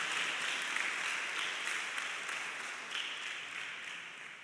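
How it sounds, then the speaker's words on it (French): An audience at a Benin end-of-year exam awards event applauds the parents of top-ranking students, steady broadband clapping sustained throughout at moderate distance, with no talking over it. "On va applaudir les parents aussi."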